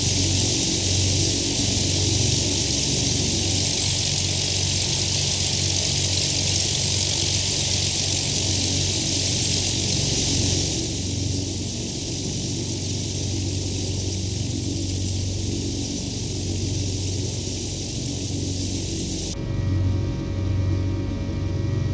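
Steady droning engine of a Piper PA-28-161 Warrior in the X-Plane 11 flight simulator, a continuous loud rumble holding an even tone for the whole stretch, with a slight shift partway through and no voices.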